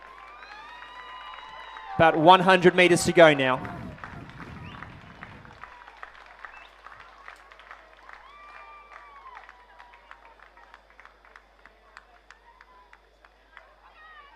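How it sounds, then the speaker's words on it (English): A crowd at the 2023 NSW Schoolboy Head of the River cheers as the Hunter Valley Grammar school first eight crosses the finish line. A loud burst of shouting rises briefly, then falls back to faint crowd noise under steady commentary. "Give them a cheer as they come across the line"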